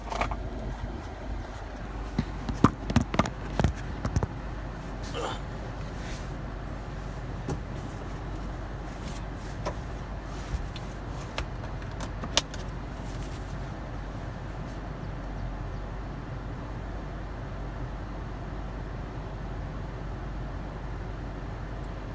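Steady interior road hum inside a moving car, with a few brief clicks and rattles early on, and no talk.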